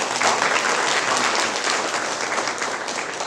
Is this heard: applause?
yes